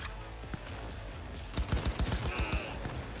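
Cyberpunk 2077 combat gunfire: a brief muffled opening, then a rapid string of about ten loud, punchy shots close by in the second half, with game ambience underneath.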